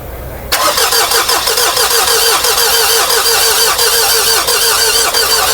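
A Mitsubishi Montero that had quit running cranks over and catches after a fuel filter change, settling at once into a loud, steady, close engine run with a rapid rhythmic pulse and no talk.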